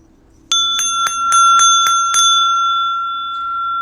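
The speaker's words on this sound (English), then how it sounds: "that's my heart chakra bell, and I just had to ring that" A small handheld heart chakra bell rung in a quick series of about seven bright strikes, clear and close, then left ringing with a long sustained shimmer.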